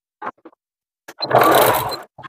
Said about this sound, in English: So I'm just going to sew down each side here.